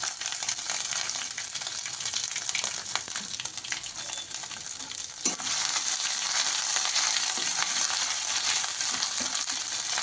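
Ginger and curry leaves fry in hot oil in a pan while upma is made, giving a loud, continuous close sizzle that briefly dips and then rises again as the pan is stirred, with no talk.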